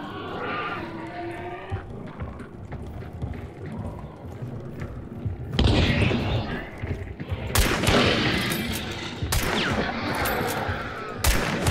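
Several loud gunshots in the video game Hunt: Showdown ring out in separate bursts, a few seconds apart, over a constant rumbling background.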